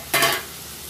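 Shrimp drop into a pan of frying pumpkin and give a short, close burst of sizzling that fades within a moment.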